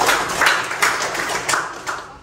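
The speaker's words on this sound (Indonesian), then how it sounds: "Kasih, kita beri tepuk tangan ya." Hands clap at the close of a university teaching lecture, a fairly loud, steady patter of several people applauding for a couple of seconds without talk.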